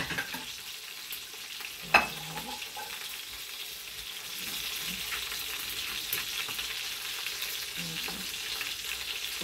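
Honey garlic lamb chops sizzle steadily in a pan over the fire, with a sharp clack near the start and the frying hiss swelling slightly louder midway.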